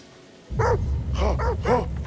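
In the horror video game The Dark Pictures Anthology: The Devil in Me, a dog gives three loud, close barks in quick succession after a brief quiet moment.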